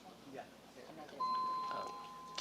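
A doorbell-like chime marks time up during a committee hearing in a legislative chamber, ringing as a sustained tone under quiet murmured talk in the room.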